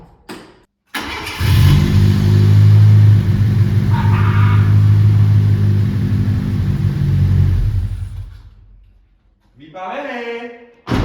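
A car engine, just repaired and started on a partly recharged battery, cranks and catches, then revs and idles with a loud, steady low rumble for several seconds before dying down; a voice speaks briefly at the end.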